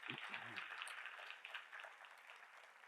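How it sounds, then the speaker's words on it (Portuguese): Audience applause honoring a minister at the closing session of a legal congress, a steady wash of clapping held at a fairly even level, with a voice briefly audible at the start. "uma salva de palmas à Sua Excelência"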